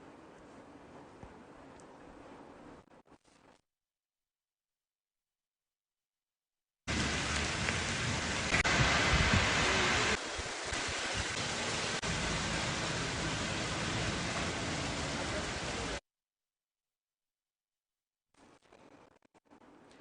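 Heavy rain pouring in Hyderabad, a dense continuous hiss of rain on surfaces for about nine seconds, bracketed by fainter rainy stretches and brief silent gaps.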